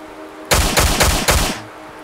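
Gunfire in the survival video game Miscreated: four rapid, loud, close bursts of shots in quick succession over about a second, then silence, with no talking.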